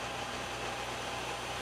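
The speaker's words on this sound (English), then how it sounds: "The engine compressor is settled in at an idle." A turboprop engine of an Air Canada Express airliner holds at idle, a steady, loud, broad whirring hum with a continuous rush, heard alone with no voices.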